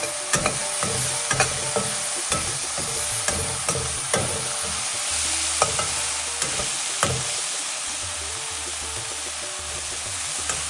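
Onions frying in a pan for a mushroom pepper fry, a constant close sizzle broken by repeated scraping clicks of a spoon stirring, with no voices.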